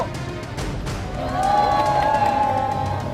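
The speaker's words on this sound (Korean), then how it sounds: "박수!" A crowd at a Yongsan street rally and march by a national residence association cheers and claps steadily, swelling louder partway through, with a bright whistle-like tone riding over the broad roar.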